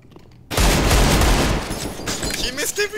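Gunfire in a multiplayer shooter: a loud burst of rapid shots erupts suddenly after a quiet start and stays dense, then breaks into scattered cracks, with voices talking over it.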